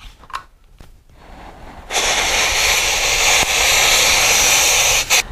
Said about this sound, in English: I'm trying to feather the throttle here because it's just putting out so much powder